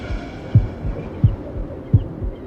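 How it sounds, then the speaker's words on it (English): Steady heartbeat thumps, low and close, three evenly spaced beats each with a softer follow-up, over a quiet hum with no talking. "I can hear my heartbeat"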